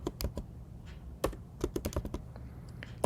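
Typing on a computer keyboard while entering a pip install command in a terminal on a Mac, a close series of crisp irregular key clicks with short pauses between bursts.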